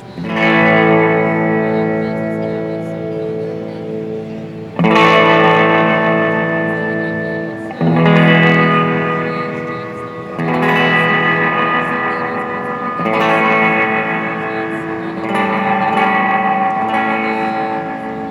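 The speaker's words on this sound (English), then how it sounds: "you also have a regular tremolo sound where your reverb is tremoloed" Electric guitar chords ring out through a shimmering optical spring reverb pedal with pulsing tremolo on the reverb, struck roughly every few seconds and left to decay in a wet wash.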